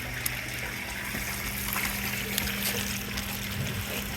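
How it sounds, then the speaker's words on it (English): Water is poured steadily onto a worm farm, a soft continuous trickling and splashing at close range with faint background hum and no speech. "So Avia, do you want to help me water this?"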